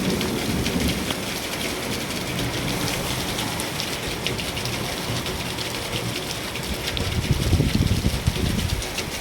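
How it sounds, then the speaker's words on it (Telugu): Heavy rain pours steadily and loudly on surfaces close by, a dense continuous hiss with a low rumble swelling near the end, as wind and rain arrive together at a penthouse home; no talking. "ఇది నెక్స్ట్ డే రోజు ఫుల్ వర్షం, అసలు ఎంత వర్షం పడుతుందో."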